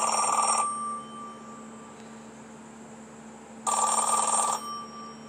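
Telephone bell rings in two clear bursts within a Yoko Ono recording, a loud ring, a pause of about three seconds, then a second ring, over a steady low hum.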